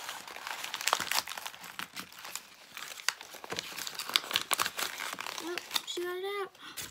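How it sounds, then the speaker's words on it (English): A child tears and crinkles wrapping paper off a present in a series of quick rips and rustles, with adults talking quietly and a short high-pitched voice near the end. "Keep ripping."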